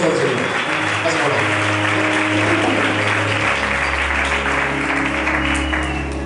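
A wedding congregation applauds during a church ceremony, sustained steady clapping from many hands with voices and a low organ-like tone underneath.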